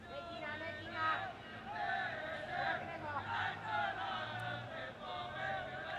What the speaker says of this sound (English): You can hear them cheering their team on in the background.